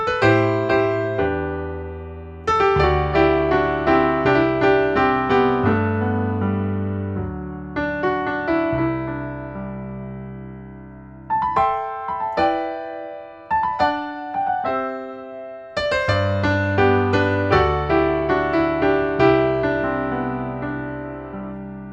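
Solo piano plays the intro to a song: flowing, rich chords and a rolling, syncopated melody, bright and close, with brief pauses between phrases.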